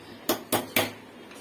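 A metal lid goes onto a pot of chicken biryani rice with three sharp, evenly spaced clanks in quick succession. Each is bright and close, then a quiet pause follows.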